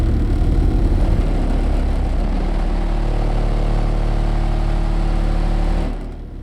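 A car engine is held at revs during an SPL bass audio test, producing a loud, steady, deep droning roar with a strong low tone that holds evenly, then drops away abruptly near the end.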